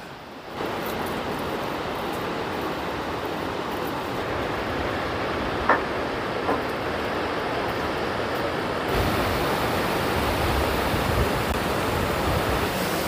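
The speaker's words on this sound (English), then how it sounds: "this is a lovely blue lake with loads of little waterfalls" Small waterfalls spilling into a blue lake at a national park in Croatia, a steady broadband rush of falling water, continuous and moderately loud, with a couple of faint brief clicks.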